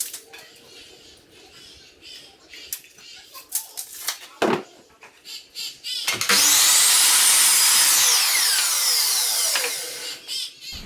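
A power drill drives screws into pine pallet boards while a wooden planter frame is assembled, with light handling knocks first, then a loud, sustained whirring burst of about four seconds that winds down.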